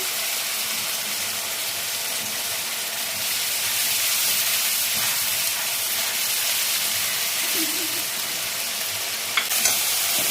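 Slit green chillies and ginger paste hit hot oil in a pan for a koi fish curry, giving a steady, bright, close sizzle with faint stirring and no voices.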